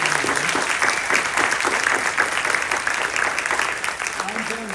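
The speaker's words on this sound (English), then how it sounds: "give them a round of applause and let them know that you are here" A live audience at a Clarke County, Georgia mayoral candidates' forum broadcast on radio claps in a sustained round of applause, a thick, even wash of hands with some voices faintly mixed in underneath.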